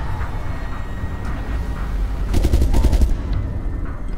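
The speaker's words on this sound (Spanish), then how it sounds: "por lo menos están haciendo tiros al aire" Video game gunfire from Resident Evil Revelations 2, heard as a rapid burst of automatic shots around the middle, loud and close over a steady ambient rumble.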